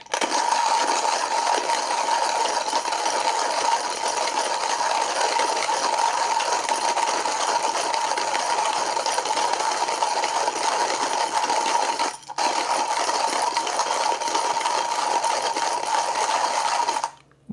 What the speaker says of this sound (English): I'm gonna start grinding the beans.